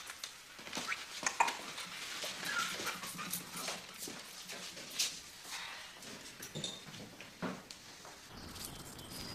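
Dogs heading out for a quick walk before dinner, heard as faint, scattered scuffles, paw taps and a soft whimpering tone over a quiet, steady background.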